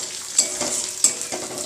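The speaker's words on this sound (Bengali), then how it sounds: "এই পর্যায়ে আমি এই লঙ্কাগুলো দিয়ে দেবো, নাহলে লঙ্কাগুলো ভাজা হবে না।" Green chilies and shrimp frying in a pan, stirred with a few sharp scrapes of a spatula over a steady close sizzle, with no talking.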